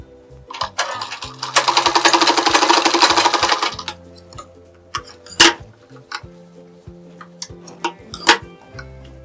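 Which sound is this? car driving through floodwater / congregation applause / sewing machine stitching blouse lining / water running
sewing machine stitching blouse lining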